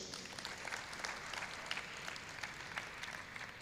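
Quiet, steady applause from a convocation lecture audience, a distant even patter of clapping with no break.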